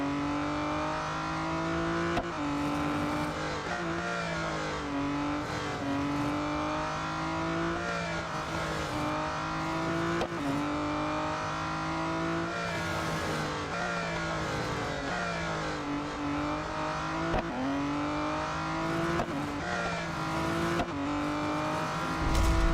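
An Aston Martin Vulcan AMR Pro racing an autocross at Spa-Francorchamps in Real Racing 3, its loud engine whine rising through the gears and dropping on each shift in a repeating pattern for over twenty seconds, with no voices.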